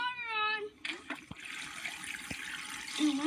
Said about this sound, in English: You can turn the water on.